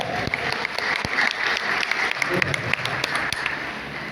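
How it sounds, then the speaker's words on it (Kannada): An audience at a traditional Kannada talamaddale performance of Sahadeva Digvijaya breaks into sustained, fairly loud applause, many hands clapping steadily throughout with no speech. "ಚಪ್ಪಾಳೆ ಬರಲಿ."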